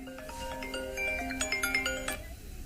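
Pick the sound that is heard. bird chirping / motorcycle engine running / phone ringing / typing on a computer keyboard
phone ringing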